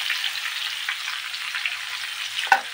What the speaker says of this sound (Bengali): আলুটা ভাজা ভাজা হয়ে গিয়েছে, এর মধ্যে দিয়ে দেবো আমি আদা রসুনের পেস্ট 1 চামচ